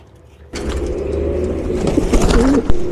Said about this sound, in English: That second bird was a race bird